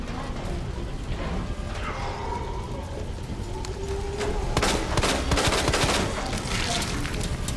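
Pistol fire in the video game Resident Evil 2: a rapid string of several sharp shots over about two seconds, loud and close, following quieter game ambience with some talking.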